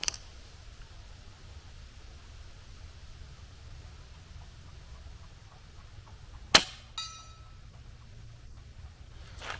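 A Crosman 1377 air pistol fires once at a 48-yard target: a single sharp crack stands out against a quiet outdoor background, followed by a fainter second snap shortly after.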